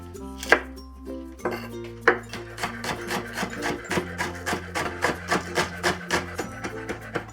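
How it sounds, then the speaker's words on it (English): A knife minces green onion on a cutting board, with a couple of separate strokes and then a quick, regular run of close, crisp chops. "we're going to mince the green onion"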